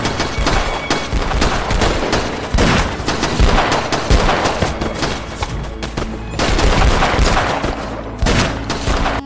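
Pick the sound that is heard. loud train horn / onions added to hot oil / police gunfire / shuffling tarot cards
police gunfire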